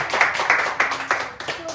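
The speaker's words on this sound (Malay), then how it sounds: "Bagi tepukan." Pupils in a primary school design-and-technology class clap together in a steady rhythmic pattern, about five evenly spaced bursts of claps, fairly close and clear.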